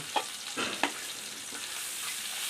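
Cumin seeds sizzle in hot oil for a bottle gourd and fish curry, a steady close hiss with a few sharp spoon scrapes and clicks from stirring near the start, and no one talking.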